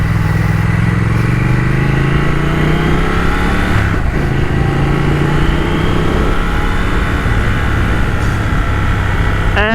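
A 2021 Triumph Thruxton RS motorcycle engine runs steadily while being ridden, a smooth, continuous drone whose pitch climbs gradually, with a brief dip partway through, close and loud with no talking.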